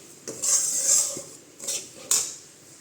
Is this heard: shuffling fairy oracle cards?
no